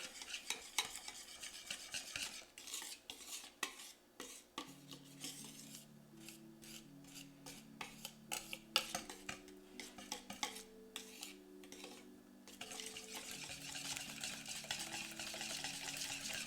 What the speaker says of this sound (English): So I'm going to go ahead and whisk it all together.